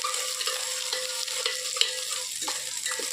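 Onions sautéed in a pan for a marinated meat dish being cooked for a feast, a busy close sizzle with rhythmic spoon scrapes and stirring clatter repeating through.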